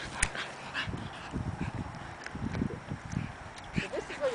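A dog in a backyard whimpers and yelps in short, irregular bursts at close range, with people talking now and then in the background.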